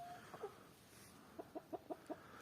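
A rooster clucks nearby, a couple of short calls followed by a rhythmic run of five quick clucks, fairly faint against a quiet background.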